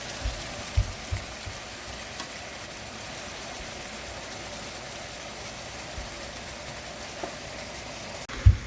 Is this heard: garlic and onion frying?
yes